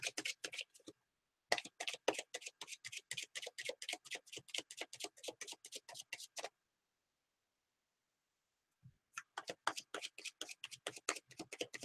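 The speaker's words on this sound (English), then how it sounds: "I'm just shuffling, just cleaning up the deck" A deck of tarot cards being shuffled by hand, close and quiet, as a rapid run of regular soft taps that stops for about two seconds and then starts again.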